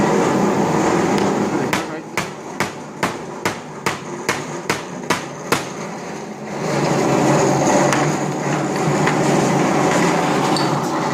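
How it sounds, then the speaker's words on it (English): A series of about ten sharp hammer strikes in a steady rhythm on a car bumper corner, close and distinct over background hum, followed by a louder stretch of noise. "I'm going to go ahead and use this hammer"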